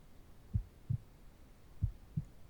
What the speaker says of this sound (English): Can you hear my heart beating for you?